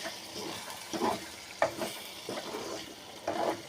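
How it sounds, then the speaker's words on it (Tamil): Chili and turmeric powder frying in hot oil for an eggplant stir-fry, with a soft continuous sizzle and intermittent louder stirring scrapes and clatters at close range, no talking. "இந்த மிளகாத்தூள் மஞ்சத்தூள் இதெல்லாம் எண்ணெயிலே பொரியும்போது நல்லாயிருக்கும்"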